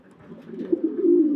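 A farm-kept pigeon coos in a low, throaty run, soft at first and building into a steadier, louder rolling call with a few pulsed swells.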